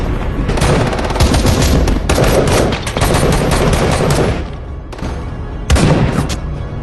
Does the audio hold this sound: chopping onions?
no